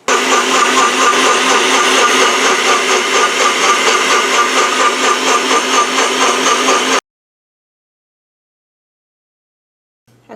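A Nutribullet blender whirring through a drink made for constipation relief, a loud steady motor roar for about seven seconds before cutting off sharply into silence.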